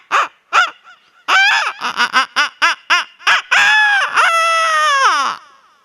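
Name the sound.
voice imitating a chicken clucking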